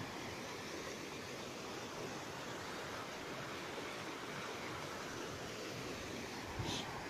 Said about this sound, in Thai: เสียงน้ําแบบนี้เห็นแล้วอยากเล่นนะครับ